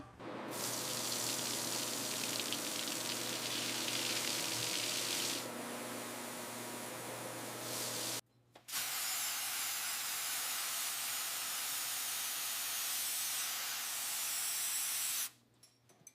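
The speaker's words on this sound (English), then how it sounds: "There it goes, flushing out 60 years of gunk." Water hisses and sprays steadily, flushing decades of gunk out of the engine core of a 1926 Mack Model AB truck. The loud rush stops briefly once and stops again at the very end.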